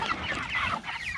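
Six-week-old meat chickens cluck and chatter together in a dense, continuous flock murmur, close and fairly loud.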